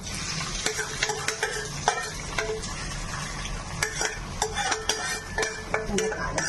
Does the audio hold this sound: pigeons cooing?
no